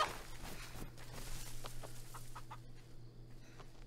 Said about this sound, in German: Bin ich auf ein Huhn jetzt getreten?